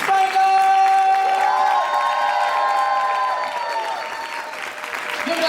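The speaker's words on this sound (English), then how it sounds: "Start clap right now" Live podcast audience at a patdown party clapping steadily, a continuous wash of applause with some cheering and a musical tone running underneath.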